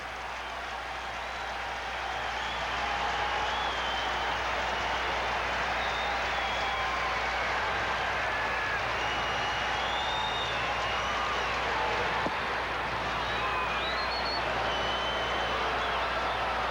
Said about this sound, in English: The crowd in Riverfront Stadium is really starting to buzz about this now